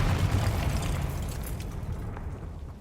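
In the game Hogwarts Legacy, a Confringo blasting spell goes off as a deep, rumbling explosion that starts loud and slowly fades over about three seconds, with no talk.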